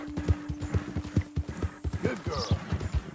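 Steady clip-clop of a horse's hooves in Red Dead Redemption 2, rhythmic and close, with someone speaking gently to the mare over the hoofbeats and a brief whinny-like sound.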